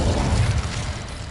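A brief, deep whooshing burst of flame as the Incendio fire spell is cast in the video game Hogwarts Legacy, loud and close with a low rumble that eases off, no voices.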